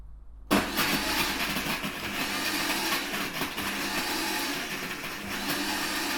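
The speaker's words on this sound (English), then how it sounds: "put it in our blender with ice and blend it up" A blender starts abruptly and runs continuously, loud and close, with a rough grinding roar as it crushes ice for a pina colada.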